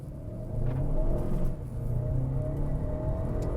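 A Mercedes-Benz A220 pulls hard up a steep hill in first gear at full throttle, its engine droning loudly and steadily with a brief dip partway through, close and without talk.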